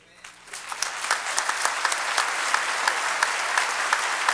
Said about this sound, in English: how about let's stand and applaud these two very special winners here today